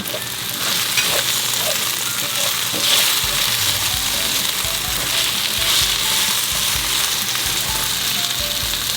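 Okra frying in garlic-infused oil, seasoned with a little salt and pepper, gives a steady, close sizzle that holds evenly for the whole stretch with faint stirring beneath.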